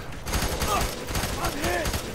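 Hip-fired gun bursts in the shooter game Fear 3, set in the slums, a dense, continuous spray of shots up close with faint radio-style game voices layered underneath.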